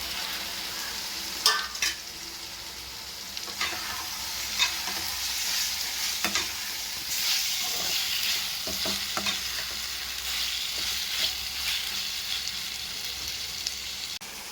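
Tomatoes and onions sautéing in a pan with ginger-garlic paste and a little salt, a continuous frying hiss broken by occasional sharp scrapes and taps of the stirring spoon, with no voices.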